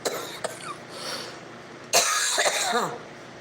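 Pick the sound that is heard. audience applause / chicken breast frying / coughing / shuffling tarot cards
coughing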